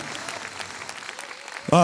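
An audience at a televised singing contest claps steadily for nearly two seconds before a loud voice cuts in over the applause.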